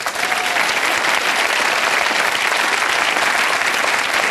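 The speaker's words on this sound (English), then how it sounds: "give yourselves a round of applause" A studio audience on a televised question-and-answer panel program gives steady, dense, even applause that holds at a constant level throughout.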